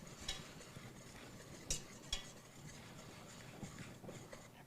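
Flour is stirred into softened vegetables to make a roux for potato soup, with quiet scraping and soft clinks of a spoon against the pot, a couple of sharper knocks, and nothing else heard.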